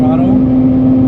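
Mazda RX8 rotary engine at about 8,000 RPM on light throttle, a short, loud, steady buzzing drone with a prominent constant pitch and no change in level.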